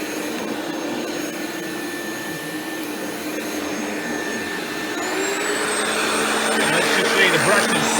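A Rainbow E2 Black Type 12 canister vacuum with its power nozzle and spinning brush runs loudly and steadily, a whining motor roar that swells and brightens partway through as sweeping begins.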